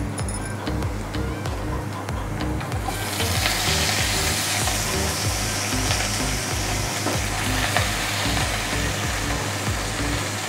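Amaranth leaves and onions fry in a pan, a dense continuous sizzle that swells louder partway through as the leaves go in, with scattered utensil clinks and a low background hum.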